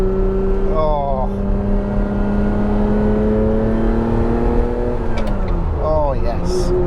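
Ferrari F512 M, the final Testarossa model, driving and accelerating with a loud, steady flat-twelve engine note rising through the revs, a brief gearshift dip midway, then climbing again close up.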